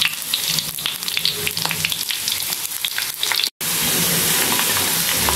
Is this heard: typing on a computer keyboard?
no